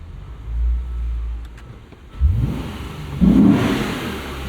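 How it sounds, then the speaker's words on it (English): A Lexus IS 500 sport sedan with a 472 hp V8 idles in park, then revs sharply twice, each throaty burst rising and fading, heard up close with no talking. "We'll go over here and we'll just put it in park and rev it."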